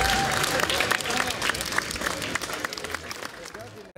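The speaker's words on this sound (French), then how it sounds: "Je crois qu'on peut applaudir très très très fort les organisateurs et surtout les bénévoles" Outdoor crowd applauds the organisers and volunteers at a multicultural festival in Vevey, a dense, loud burst of clapping with cheering voices mixed in, fading slightly toward the end.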